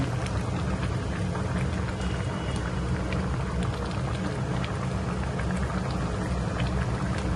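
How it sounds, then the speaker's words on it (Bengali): Dried ribbonfish curry boils steadily in a pot, a dense, continuous bubbling and popping that stays close and even throughout with no voices. "দেখেন টপ টপ করে ফুটছে"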